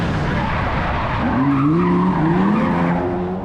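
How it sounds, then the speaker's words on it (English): A gold-plated Lamborghini races through tiny lanes during a film stunt, its tires squealing in a loud, wavering skid over a roaring engine, close and continuous for a few seconds. "There's also an awesome gold-plated Lamborghini that's racing through tiny lanes."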